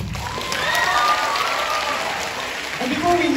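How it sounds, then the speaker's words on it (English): A crowd applauds steadily at the end of a middle school concert, a dense wash of clapping with some voices mixed in, sustained throughout. "Please, round of applause."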